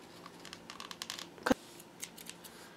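Scissors snipping off excess paper for a homemade makeup brush holder, a single sharp close cut standing out amid light handling rustle.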